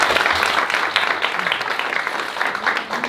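A church congregation applauds together, a dense, steady wash of clapping that fills the whole moment from start to finish without pause.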